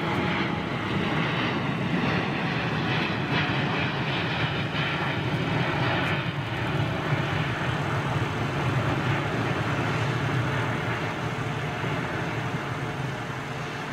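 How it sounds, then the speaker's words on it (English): A British Airways Boeing 787 Dreamliner climbs out from London Heathrow, its engines giving a steady, broad roar that holds level throughout, heard at a distance with no speech. "DEA Dreamliner going up high"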